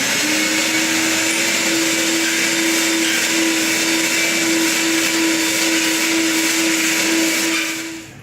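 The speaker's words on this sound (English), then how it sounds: "we're just going to go ahead and vacuum just to make sure all the dirt and debris and dust is off the ground" A vacuum cleaner runs loud and steady, sweeping dirt and dust off a garage floor ahead of an epoxy base coat, with a constant whining drone throughout.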